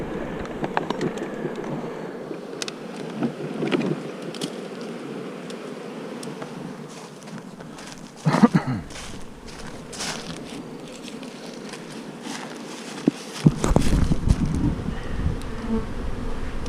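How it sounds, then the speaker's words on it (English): Bees swarm densely around a hive in a continuous close buzz, with occasional louder passes and brief knocks and handling noises, and no speech. "Yep, tons of bees here."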